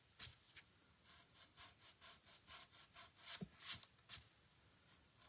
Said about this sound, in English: I'm just going to sand that off